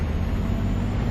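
A heavy truck in Euro Truck Simulator 2 drones under engine braking and retarder braking, a loud, steady low rumble with a continuous throbbing hum and nothing else over it, brief and even throughout.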